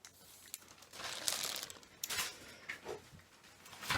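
Plastic crinkling and rustling in short bursts, close and fairly quiet, with a few light clicks in between.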